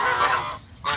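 Egyptian geese give a loud, close, nasal honking call that runs for most of the moment, then breaks off and starts again briefly.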